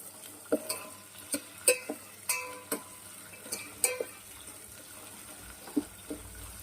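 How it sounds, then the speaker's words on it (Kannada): Ingredients with peas being stir-fried for spinach khichdi, with a soft background sizzle broken by a string of sharp spatula knocks and scrapes against the pan at an uneven rhythm. "ನೀಟಾಗಿ 1-2 ನಿಮಿಷ ಇದೆಲ್ಲನೂ ಫ್ರೈ ಮಾಡ್ಕೊತೀನಿ."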